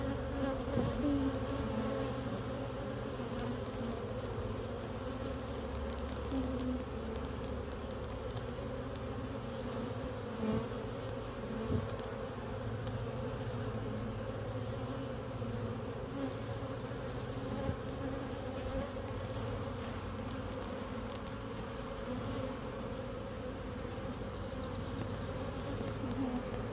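A honeybee swarm hums continuously as it is moved into a hive box, a dense, even buzz that carries on alone without pause.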